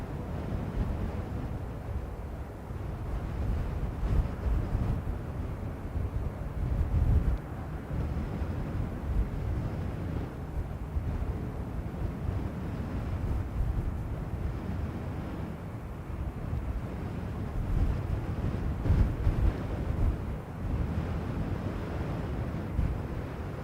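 Steady wind blowing across an open airfield at Dublin Airport, a continuous low rumbling buffet with gusts rising and falling and no other clear sounds.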